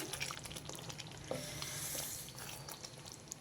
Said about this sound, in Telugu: ఇప్పుడు నేను ముందుగా ఆయిల్లో వేయించి పెట్టుకున్నాం కదా దొండకాయలు, అవి వేసేస్తా. వేసి ఒకసారి ఇదంతా బాగా కలిపేసి